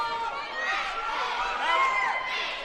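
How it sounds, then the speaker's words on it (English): A loud home crowd fills a high school basketball gym with continuous roaring chatter and cheering, close and dense throughout with no pauses. "the Grizzly Cub crowd is getting extraordinarily loud behind me"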